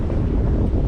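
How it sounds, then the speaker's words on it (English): Tropical wind buffets the bow of a fishing boat out at sea, a loud, constant low roar of gusts against the microphone mixed with a wash of water, with no voices. "tropical wind cut through the glassy surface"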